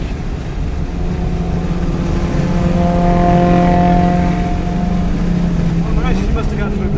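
A race car engine on a circuit revs hard on the throttle, loud and close, its tone climbing and holding in steady harmonic pitch before dropping sharply near the end, with speech faintly beneath.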